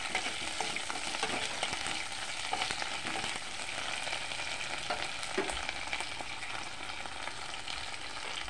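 Sidol, a dried fermented fish cake, frying in hot oil while being stirred for a pumpkin curry, giving a steady broadband sizzle with occasional scraping stir sounds throughout, no talking.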